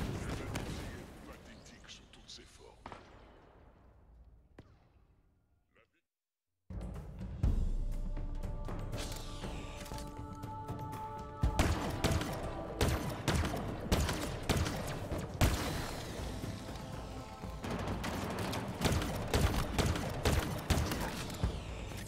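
Gunfire in the video game Halo Infinite, with rapid bursts of shots, a near-silent gap and then dense volleys layered with game music and effects, while a player talks over the action.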